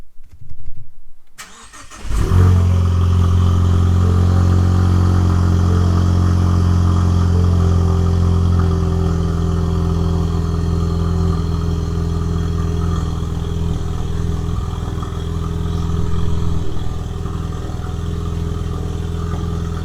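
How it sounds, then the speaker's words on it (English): A Ford Mustang EcoBoost fitted with a Turbosmart blow-off valve starts with a sudden loud crank after a quiet moment, then settles into a steady, close idle drone that holds for the rest of the stretch. "let's go ahead and turn on the car"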